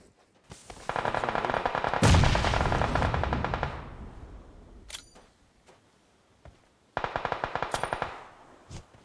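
Gunfire in the PUBG Mobile video game: long rapid automatic bursts with sharp single shots between them, loud and close, with a heavier blast near the start and a second burst later, no talking.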